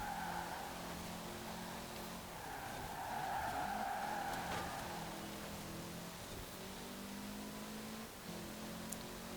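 A rally car in Forza Horizon 4 slides its tires through a Scandinavian flick around a corner, with a steady engine drone and a rising scrubbing hiss of tire slip throughout.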